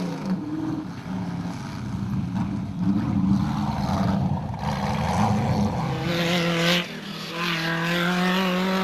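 A Tyre Rack Jimco off-road race car at the Toyota Dealer 400 runs rough, its engine droning and straining with uneven harmonics, then a rising whine near the end over gritty mechanical noise, close and loud.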